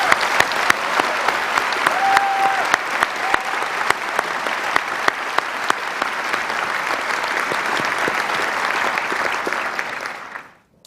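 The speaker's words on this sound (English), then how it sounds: "I think you ought to give yourself a rousing round of applause" A seated audience at a convocation ceremony breaks into sustained, even applause that holds steady for about ten seconds before fading out sharply at the end.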